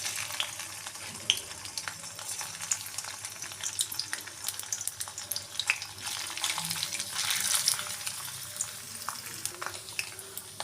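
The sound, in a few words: paneer pieces frying in oil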